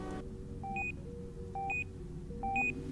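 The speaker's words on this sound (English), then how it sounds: "What is that beeping?" Three evenly spaced paired electronic beeps sound inside a VRChat game world, each a quick two-tone chirp over a quiet low hum.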